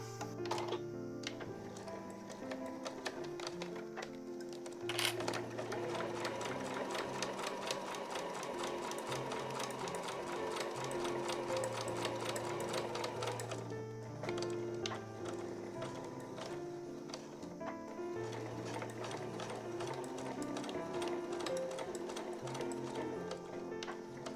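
A sewing machine stitches tatami edging fabric into a small item, running in a rapid, steady mechanical rhythm with a brief pause and restart partway through.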